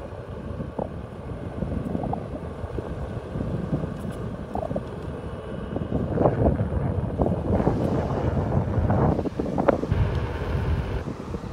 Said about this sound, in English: It's a lot more very windy.